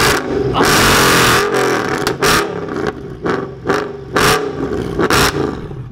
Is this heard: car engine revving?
yes